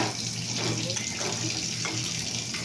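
Water poured from a tap into a cooking pot of boiled masoor dal, a steady close splashing stream running throughout.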